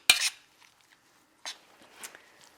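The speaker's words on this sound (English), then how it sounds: "Stir it all around" A spoon clinks and scrapes in a pot of orange juice with orange peels, one sharp knock followed by a few lighter taps and stirring scrapes, close and brief.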